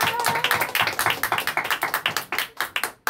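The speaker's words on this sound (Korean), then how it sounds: "우리 힘차게 박수로서 환영하겠습니다" A church congregation claps in welcome with loud, fast, rhythmic hand claps close by. The clapping is steady and dense, then breaks off briefly near the end.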